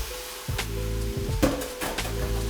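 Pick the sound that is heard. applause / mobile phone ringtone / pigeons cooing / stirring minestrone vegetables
stirring minestrone vegetables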